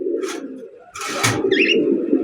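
Pigeons coo nearby in low, soft bursts, with a faint chirp and some rustling noise in between.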